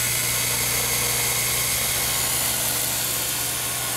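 A DIY 2x72 belt grinder runs with a constant, loud, even mechanical whir and hum, unbroken through the whole stretch.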